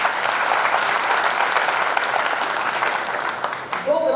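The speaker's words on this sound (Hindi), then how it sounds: "तो इनके सम्मान में एक बार आप जरूर ताली बजाएं।" An audience at a Hindi poetry gathering breaks into dense, sustained applause from many people, which thins and tapers near the end as a voice begins to come through.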